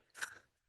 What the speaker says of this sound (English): If you can hear crunching in the background, that's my dogs chewing on their beef trotters, cow hoof things.